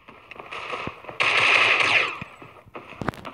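Rapid automatic gunfire in the mobile shooter Critical Ops, a loud sustained burst of shots in the middle with shorter bursts and single cracks around it, heard alone without talk.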